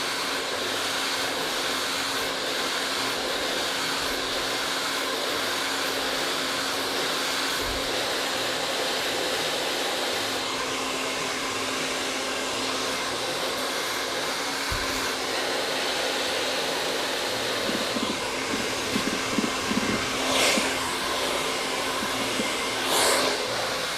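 A hair dryer with a nozzle attachment blows steadily while hair is being styled, a loud continuous whine that runs unbroken, with a few soft handling knocks and rustles near the end.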